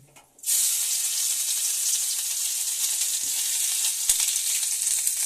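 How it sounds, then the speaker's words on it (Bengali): Bay leaves dropped into hot oil in a wok burst into a loud, steady sizzle right after a brief quiet moment, hissing continuously up close with an occasional small pop. "এখানে কড়াইতে তেলের মধ্যে তেজপাতা দেওয়া হলো"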